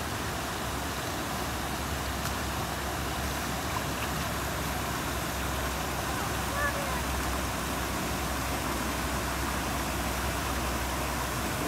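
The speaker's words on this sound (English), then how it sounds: "See the waterfall?" Water pours steadily from a waterfall at a hotel lazy river in Orlando, a constant close rushing wash that never lets up, with people talking faintly underneath.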